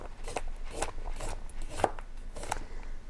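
A chef knife rocks through ingredients for beef minestrone on a cutting board, giving a soft, steady run of quick chops at moderate volume, close by with no talking.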